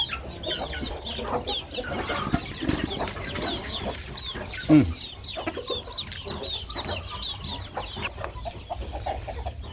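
Chickens cluck and murmur steadily nearby, with scattered short calls and one louder squawk midway, no talking heard.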